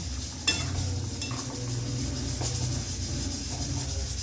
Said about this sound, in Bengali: এবার সেদ্ধ এঁচড়গুলো দিয়ে দিলাম এবার একটু কষিয়ে নিয়ে জল দেব